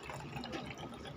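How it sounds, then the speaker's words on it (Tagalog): Water pours into a container meant for holy water, a faint steady splashing and trickling heard alone for about a second. "So, lalagyan po natin siya ng tubig"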